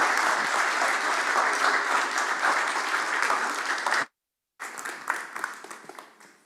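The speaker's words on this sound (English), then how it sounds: "Another round of applause for Kieran." Applause fills a TEDx auditorium after a talk, loud and sustained, then breaks off abruptly into a brief silence before clapping resumes more faintly and tapers away.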